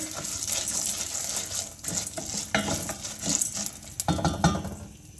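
Popcorn kernels, about half a cup, get stirred in melted fat in a hot pot, scraping and clinking against the metal over a steady sizzle, with louder knocks of the spoon near the end.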